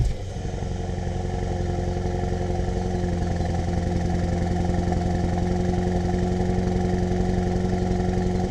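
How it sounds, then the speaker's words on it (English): A Mercedes-AMG SL with a V8 engine idles while parked, a steady deep rumble with a fine even pulse holding at a constant level throughout, close and unbroken. "this being a V8, it sounds awesome, but normally because we're stationary, there is a rev limiter"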